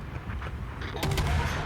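A deep naval gun salvo booms out in a World of Warships battle, a single heavy report swelling in the second half over a low rumbling background.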